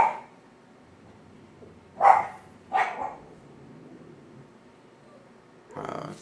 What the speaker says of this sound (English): That's just my dogs, just ignore them